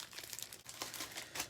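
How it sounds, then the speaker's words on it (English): A package of railway modelling tools being cut open, giving a brief, close crinkling and tearing of plastic packaging, fairly soft, with no talking. "So I'm just going to cut this open and let's see what the instructions look like."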